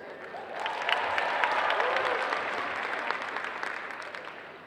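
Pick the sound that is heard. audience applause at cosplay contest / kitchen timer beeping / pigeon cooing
audience applause at cosplay contest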